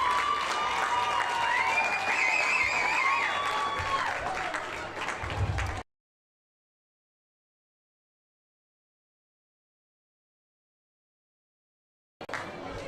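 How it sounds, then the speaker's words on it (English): A crowd at an under-11s football grand final applauds and cheers loudly for about six seconds before the sound cuts out abruptly to silence, then returns briefly near the end. "Loud crowd."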